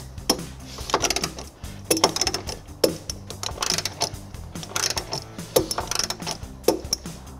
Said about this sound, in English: Next, we'll tighten and torque the bolts going into the body using a 3/4 socket.